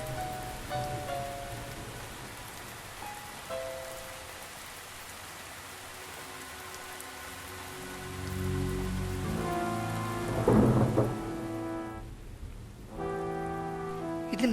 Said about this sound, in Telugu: హఠాత్తుగా వర్షం పడుతుంది ఇక్కడ.